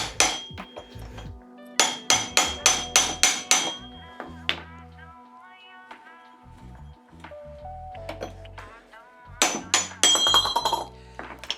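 A hammer taps out the differential on a Lexus LS400 (Celsior). Sharp metallic strikes come in quick rhythmic runs with ringing tails, then pause and resume, close and loud.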